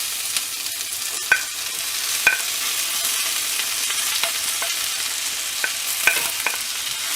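Eggplant and onions fry in a pan of oil, with a steady soft sizzle and a few sharp scrapes and clinks of stirring spaced through the clip, close and alone.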